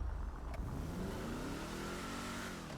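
An older Dynasty car in GTA V idles and revs steadily in-game, a noisy mid-pitched engine drone with a slowly rising tone, close and alone with no voices.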